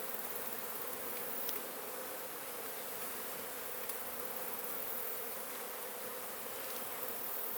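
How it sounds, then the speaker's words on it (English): Thousands of honeybees swarm around during a honey harvest, making a dense, continuous buzzing drone that fills the air evenly and steadily, moderately loud, with no voices. "thousands of bees flying around right now."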